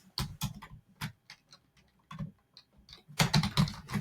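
Names being typed on a computer keyboard: irregular bursts of crisp key clicks with short pauses, ending in a faster, louder flurry of keystrokes, close and alone.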